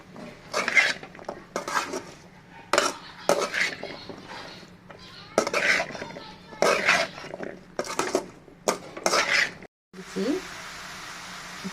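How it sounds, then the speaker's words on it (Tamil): Cauliflower curry being sautéed in a pan, with a spoon clanking and scraping against the metal in repeated bursts and brief pauses, up close, and a steady hiss near the end. "இது ஒரு நிமிஷம் நல்லா வதக்கிடுங்க."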